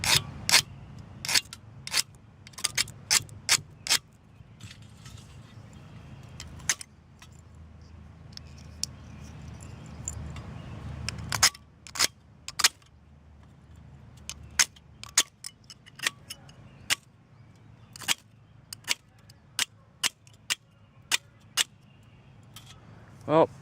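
Sharp metallic scrapes and clicks from a Doan magnesium fire starter block with shaving and sparking edges, struck repeatedly in irregular bursts at close range, with a steady rasping stretch in the middle.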